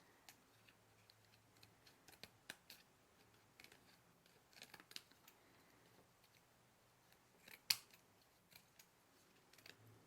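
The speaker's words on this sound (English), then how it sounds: "find my scissors, which I've left behind, and just cut out little sections." Scissors cut paper in sharp, irregular snips, some quick and close together, over a quiet background, with one louder snip near the end.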